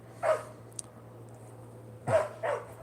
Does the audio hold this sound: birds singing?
no